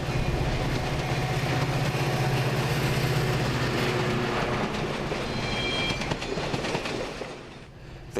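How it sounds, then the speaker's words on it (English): Chicago Metra commuter train hauled by an F40PH diesel locomotive, a loud continuous roar of engine and rolling wheels with clickety-clack and faint squeal, easing slightly at the end. "Metra's other locomotives are the smaller F40PH model"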